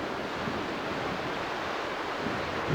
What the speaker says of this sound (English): But today the wind is kicking things up.